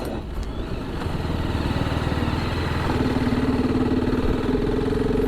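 A TVS Apache RR310 limited edition motorcycle engine runs with a steady mid-pitched thrum under rushing wind, its tone rising and holding as the bike accelerates, close and fairly loud.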